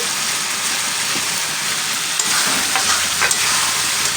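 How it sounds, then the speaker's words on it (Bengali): Potatoes tossed into a hot spiced masala, sautéing with a loud, steady sizzle and a few soft scrapes near the end, close up and without voices. "এবারে আমি এর মধ্যে আলুগুলো দিয়ে একটু কষিয়ে নেব"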